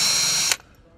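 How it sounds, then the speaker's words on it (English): Drill spinning in reverse to countersink screw holes, giving a bright, close whir for about half a second before it stops abruptly and leaves near silence. "Flick your drill into reverse, so it's running backwards,"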